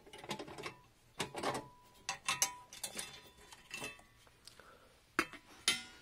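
A mechanical hard drive slid into the drive bay of an HP tg01-0023w, giving a run of close, sharp clicks and clinks in irregular bursts with quiet gaps between them.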